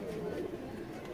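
A Teddy pigeon gives a low, rolling coo, close and steady for a moment, with a faint voice in the background.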